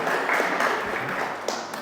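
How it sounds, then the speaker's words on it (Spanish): A church congregation gives a brief, soft round of applause, a short wash of scattered clapping that stays fairly even for under two seconds. "Un pequeño aplauso por eso."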